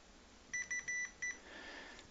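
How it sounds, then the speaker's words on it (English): Four short, high electronic beeps in quick succession from an MFJ-1708SDR, clear and fairly close, followed by a faint background hum. "it's beeping"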